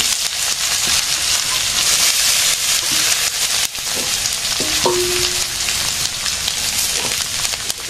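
Dried chillies frying in hot oil give a steady, loud broadband sizzle across the whole span, with faint clinks and a brief tonal squeak near the middle and no talking.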